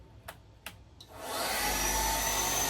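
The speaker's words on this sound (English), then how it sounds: "we're gonna turn on the vacuum head" A Shark Rocket vacuum head switches on after a few soft clicks, its motor rising quickly into a steady, loud, close whirring roar that holds to the end.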